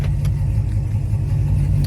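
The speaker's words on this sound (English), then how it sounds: "this car is FBO and straight piped exhaust with headers all the way through, so it's a really loud car" A 2022 Chevrolet Camaro SS 1LE with straight-piped exhaust and headers idles close by, a loud, deep, lumpy rumble throbbing steadily throughout with no talking.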